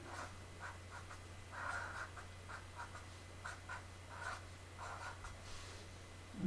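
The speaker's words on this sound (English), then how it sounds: "I'll just write it out." A pen or pencil writes out a math solution with soft, rhythmic scratching strokes in short clusters, faint against a low steady hum in a quiet room.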